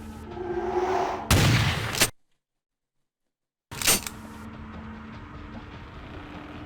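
Shotgun blasts in Vampire: The Masquerade – Bloodlines with the Final Nights mod: a loud, sustained roaring blast, then a sudden dead silence, then a second sharp blast over a steady background of game ambience, with no talking.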